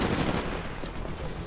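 Gunfire in the video game Titanfall, a brief dense burst of rapid shots blending into a loud continuous rattle with no voices.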